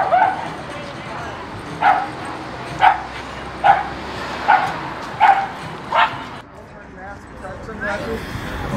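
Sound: dog barking

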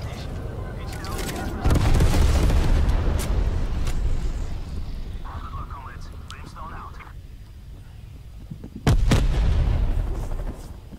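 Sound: explosion from M79 launcher in video game at Nuketown

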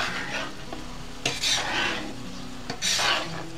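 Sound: stirring paprika into shakshuka in a skillet over a campfire

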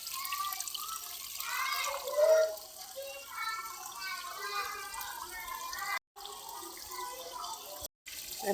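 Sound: water running for watering plants

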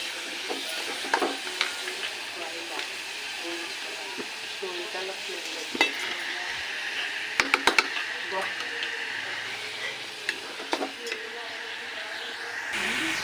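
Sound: onions frying until golden

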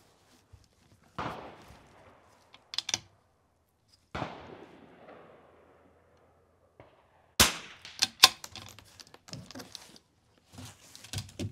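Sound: 22 rifle shots during an NRL22 match course of fire

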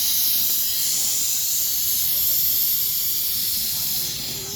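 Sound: pressure cooker whistling with steam

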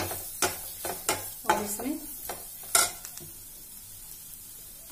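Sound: turmeric and garam masala stirred in a frying pan

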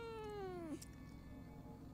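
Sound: cat meowing in video game Fears to Fathom

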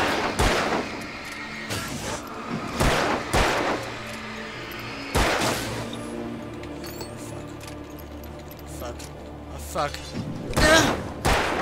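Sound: gunshots from the video game Alan Wake

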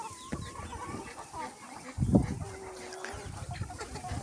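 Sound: chickens clucking

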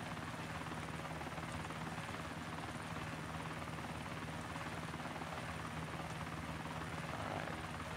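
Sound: helicopter flying in DayZ video game

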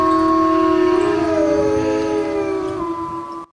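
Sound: wolves howling, recording played for comparison

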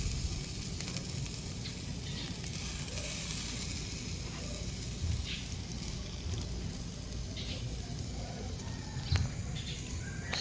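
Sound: fish sizzling on a grill

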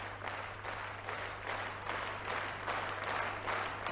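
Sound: Bolshoi Theatre orchestra applauding a singer

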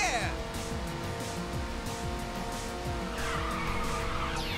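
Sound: car drifting with nitrous in video game Ridge Racer 6

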